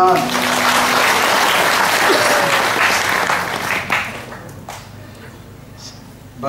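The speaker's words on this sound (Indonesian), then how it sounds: "Tepuk tangan." Audience applause fills the hall at a talk on teachers and yoga, a dense wash of clapping that stays loud for about four seconds, then thins and fades toward the end.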